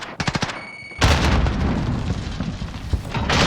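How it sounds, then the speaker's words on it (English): Frag grenade detonating in Call of Duty: Warzone, a loud sudden blast followed by a long rumbling decay, preceded by a burst of rapid gunfire shots. "Throwing one. frag."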